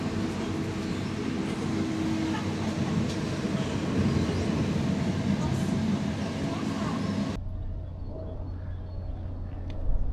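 Steady rumble and rattle of a moving train carriage approaching Glossop, England, with muffled voices under the noise, before the sound suddenly drops to a quieter hum.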